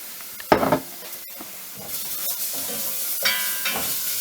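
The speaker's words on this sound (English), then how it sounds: "Stir that into the onions a bit" Garlic paste being stirred into frying onions in a pan for a cauliflower-base pizza sauce, a steady soft sizzle broken by a few sharp scraping stirs, close and with no talking.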